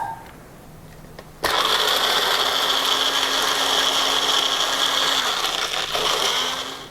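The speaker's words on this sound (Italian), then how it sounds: "Se volete potete utilizzare un piccolo frullatore" A small blender switches on abruptly and whirs steadily at high speed, blending bagna cauda sauce, a loud, close, continuous motor whine after a short quieter lead-in.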